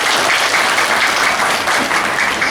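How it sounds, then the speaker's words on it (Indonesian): Dense, steady applause from a crowd at a religious congregation's gathering in Indonesia, greeting a guest senator from Jakarta; continuous and loud for the whole stretch, no voices on top. "Tepuk tangan juga untuk Dr."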